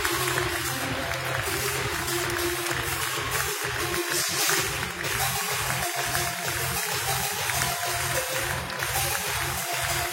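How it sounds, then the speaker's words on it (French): Sustained audience applause fills the arena at a horse show after a mounted police demonstration, dense steady clapping from a large crowd continuing throughout without a break. "L'applaudissement, s'il vous plaît. L'applaudissement pour le Berlin."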